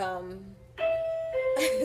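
A doorbell chimes indoors in a clear two-tone ding-dong, ringing out loudly and then fading, with a second ring following.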